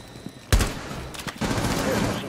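Two sharp bursts of gunfire in the video game Rainbow Six Siege, a loud blast followed later by a rapid volley, over a low background rumble.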